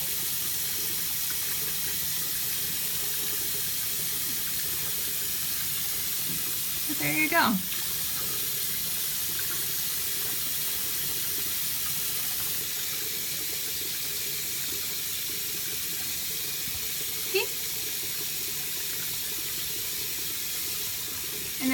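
Tap water runs steadily into a bathroom sink during a facial cleansing routine, a continuous close hiss lasting the whole stretch, with a brief bit of talk over it.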